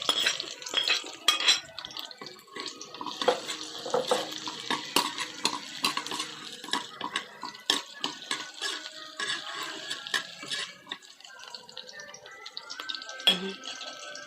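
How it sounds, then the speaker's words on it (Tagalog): Onion sautéing in a pan while crab cooks in coconut milk, with kalabasa squash and string beans to follow: a steady bed of sizzling and frying with frequent scrapes and clinks of a spoon stirring against the pan, close and continuous. "Lagyan na rin natin yung sibuyas."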